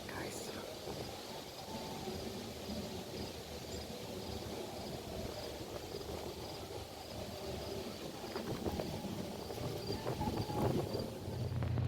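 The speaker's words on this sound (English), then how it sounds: "It's very windy." Wind buffets the microphone outdoors on the Toronto Islands along the southern boardwalk, a steady broadband rumble that swells toward the end, with someone talking underneath.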